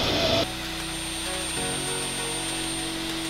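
A plunge router cuts wood along a curved template while a workbench is being built, giving a steady, loud, continuous high-pitched whine that rises in pitch after a brief louder start and holds close and constant.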